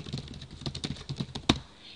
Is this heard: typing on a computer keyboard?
yes